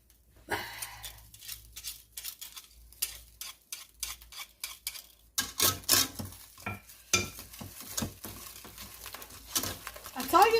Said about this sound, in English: I'm actually going to use the whisk.